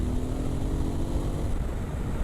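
A Voge DS800x Rally motorcycle with a replacement exhaust is being ridden, giving a steady, deep engine burble mixed with wind rush. The sound is continuous and fairly loud, with no talking.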